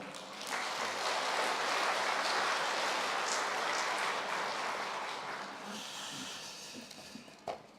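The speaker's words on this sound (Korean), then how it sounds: "우리 목사님 나오실 때 큰 박수로 환영하도록 하겠습니다" A church congregation claps to welcome the pastor to the pulpit, a broad wash of applause that swells early and then slowly thins, ending with a sharp knock.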